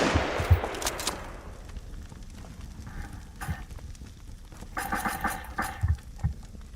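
Gunfire in a video game sounds as scattered sharp bursts of shots, some quick clusters and single cracks, fairly faint against a busy game background with no talk.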